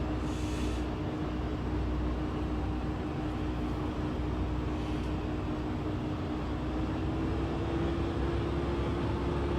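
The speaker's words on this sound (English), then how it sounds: "the propeller's going full tilt" The propeller of an Alabeo DA40 running at full power in a flight simulator gives a steady, unbroken drone with a constant tonal hum, holding level throughout without talk.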